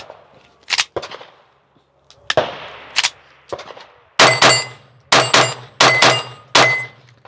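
Glock 44 .22 pistol fired at speed: a few spaced shots, then four quick, loud bursts of rapid cracks with ringing metallic tails, close to the mic.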